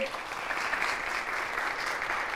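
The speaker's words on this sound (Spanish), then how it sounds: "vamos a recibirla con un fuerte aplauso" A television studio audience breaks into loud, dense applause to welcome a guest, a continuous roar of clapping that holds steady for the whole stretch.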